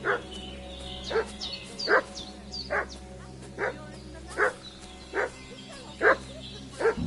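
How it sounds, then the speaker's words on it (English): A dog in Kingdom Come: Deliverance 2 barks repeatedly at a steady, excited pace, a single yip about every second, moderately close over a low ambient hum. "What's that dog making such a fuss about?"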